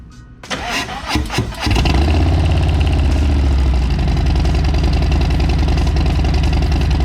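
A Harley motorcycle fitted with a Stealth exhaust fires up for its first cold start: a short cranking burst, then the engine catches and settles into a loud, steady, throbbing idle with no talk.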